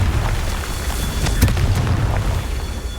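A Confringo blast spell going off in Hogwarts Legacy, a deep rumbling boom with a sharp crack near the middle, surrounded by low continuous roar and ambient game noise.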